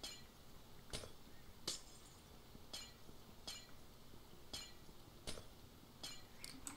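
Glass clinks and breaks in a block-building video game, a series of sharp, faint tinkling hits spaced roughly a second apart over quiet background hiss.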